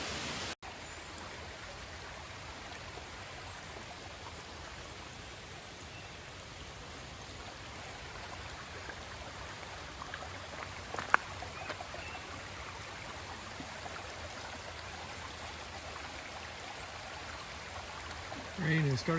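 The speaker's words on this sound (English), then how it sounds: "the ditches are really flowing now" Rainwater runs through a flooded ditch beside woods, a steady soft wash of flowing water with light rain, fairly faint and continuous with a few brief knocks.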